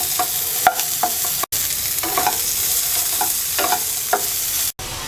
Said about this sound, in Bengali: আলু আর ফুলকপি ভাজা হয়ে গেছে